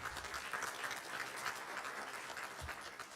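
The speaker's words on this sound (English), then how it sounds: "Give a big round of applause to her." Faint, distant applause from an audience at a 2023 insurance and reinsurance conference, a soft steady wash of clapping heard from afar in a large hall.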